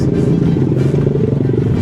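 A Gojek motorcycle climbing the Mount Rinjani trail, its engine droning continuously close by with a rough, pulsing low rumble and slight clatter throughout.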